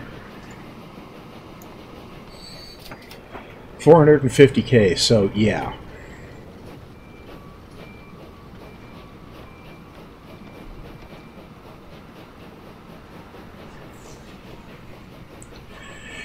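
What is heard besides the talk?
stone train running in the video game Transport Fever 2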